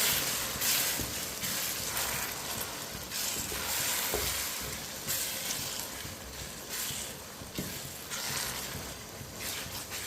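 Cinnamon pieces and a star anise flower fry with tomatoes in a pot for Hyderabadi chicken biryani, producing a loud, continuous sizzle with rhythmic surges as the mixture is stirred.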